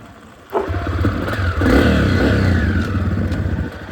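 A 2022 electric-start dirt bike engine revs up from idle with a rising snarl, holds a strong mid-range drone, then eases back, loud and close with clattering mechanical noise.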